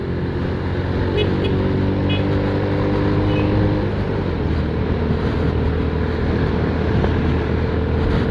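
A motorcycle engine with a freshly replaced exhaust runs after a top overhaul, giving a loud, continuous, steady idle hum with some wind-like noise and no clear changes in pace.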